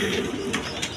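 Pigeon offered for sale cooing briefly, a soft low burbling coo close by but faint, with no talk.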